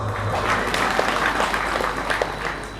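A gathering of village heads and officials in Nias claps together in a sustained, moderately loud round of applause, dense and steady, with a few sharper claps standing out near the end.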